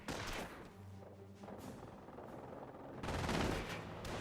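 An MG42 machine gun fires from a garrisoned building in the Company of Heroes video game, bursts of rapid gunfire with sharp impacts in the game mix, loud near the start and again toward the end.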